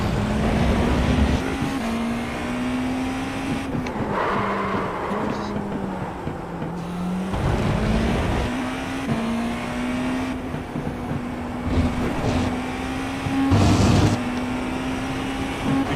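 A GT4 race car engine in iRacing at Road America drones loudly and continuously, its pitch sliding up and down through shifts and braking, while voices talk over it.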